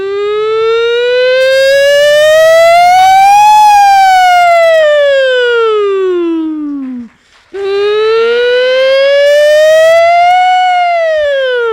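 A comedian imitates an Ethiopian ambulance siren with his voice, a loud, close, single rising-and-falling wail held for several seconds, a brief breath, then a second long wail.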